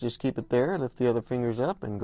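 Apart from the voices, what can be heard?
No distinct noise like a dog, phone or traffic.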